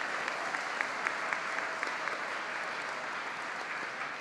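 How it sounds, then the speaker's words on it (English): An audience at a panel discussion applauds steadily, with a dense, even wash of clapping and a few sharper claps standing out. "Let's give another round of applause for this amazing panel."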